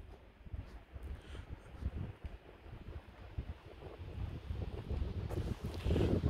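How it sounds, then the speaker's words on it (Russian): Wind gusting over a frozen bay in snowy winter conditions, a low, uneven rumble of buffeting that swells and rises toward the end, with no voices. "И ветер еще не закончился."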